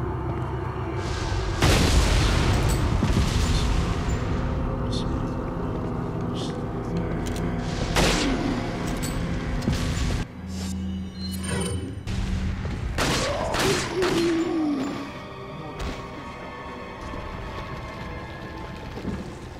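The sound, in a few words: gunfire and explosions in video game Resident Evil 4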